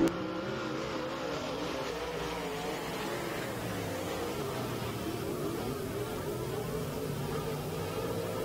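USRA A-Modified race cars run at Lake Ozark Speedway, a distant, steady buzzing engine drone that carries across the track for several seconds without a break.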